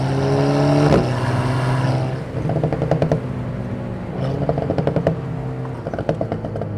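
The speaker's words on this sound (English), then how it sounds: "I don't know if you can hear that rumble, that's the front just slipping away." Close engine drone from a car on the wet Nürburgring; it drops off, then a rhythmic, pulsing rumble sets in as the front tyres slip and judder across the surface.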